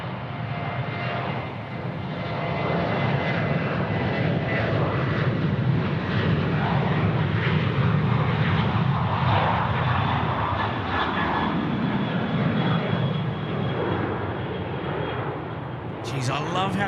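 A Velocity Boeing 737-800 jet rolls for takeoff on runway 34 right at Sydney Airport, a loud, sustained engine roar building and holding steady before easing slightly near the end.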